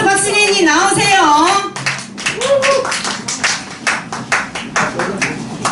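An audience at a 2019 year-end gathering claps for a singer, a run of sharp, uneven hand claps following a stretch of singing, with voices murmuring underneath.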